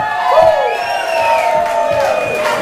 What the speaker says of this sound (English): can we once more have one massive cheer for Vicky tonight?